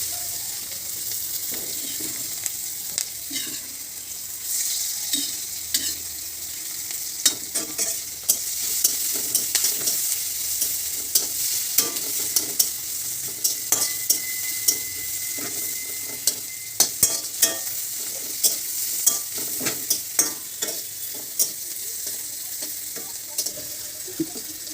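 Salted hilsa fish frying in oil with onion, a continuous close sizzle punctuated by frequent sharp spatula scrapes and taps against the pan, steady throughout with no talking.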